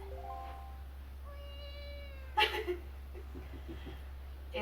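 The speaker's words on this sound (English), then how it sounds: "Link just meows for like a cat" Link, the young hero of The Legend of Zelda: The Wind Waker, lets out a short high-pitched cat meow in the game, a brief bright call standing alone against steady low background hum and faint game chimes.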